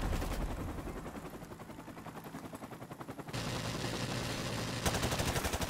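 Rapid automatic gunfire in the game Modern Warfare Remastered, with fast rhythmic bursts of shots that are loud and close and carry on almost without a break.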